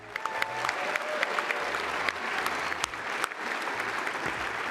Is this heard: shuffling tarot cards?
no